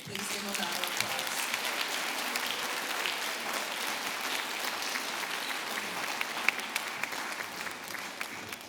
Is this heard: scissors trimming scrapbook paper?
no